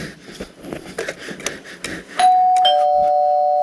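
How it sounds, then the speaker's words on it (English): A doorbell rings during a stage performance of Arsenic and Old Lace, heard as a loud, sustained electric ring that starts abruptly after a stretch of quieter stage noise and holds to the end. "It's the doorbell ringing."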